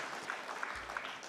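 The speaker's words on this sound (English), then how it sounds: "And while I appreciate the applause" Audience applause in a hall during a political talk about importing foreign high-tech workers, a steady wash of clapping hands that holds evenly through the whole moment at moderate loudness.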